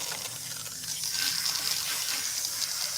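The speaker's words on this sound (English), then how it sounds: "We're gonna go ahead and rinse out her color" Water runs steadily into a salon shampoo bowl while hair color is rinsed out, a continuous close hiss and splash with no talking.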